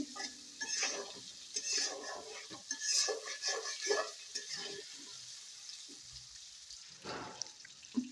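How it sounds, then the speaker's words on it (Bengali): Potatoes fry in hot oil with salt and turmeric, giving a steady sizzle broken up by repeated scraping and stirring strokes against the pan. The sound is close and fairly quiet, with brief pauses between stirs. "ওই তেলের ভিতর আলুটাকে ভেজে নিচ্ছি আমি পাতাকপি মুড়ি ঘন্টার ভিতর আলু দেব তো একটু লবণ একটু হলুদ দিয়ে আলুটাকে ভালোভাবে ভেজে নিচ্ছি"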